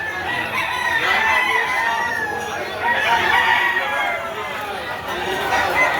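Chickens and roosters at a poultry market behind a mall in Lipa City, Batangas cluck and crow continuously nearby, mixed with crowd chatter and people talking.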